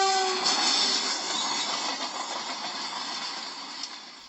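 A train gives off a continuous hissing, rumbling rush like steam, steady and fairly loud, with a short high tone at the start and a brief knock near the end.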